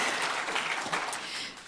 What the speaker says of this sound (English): you ought to give yourselves a hand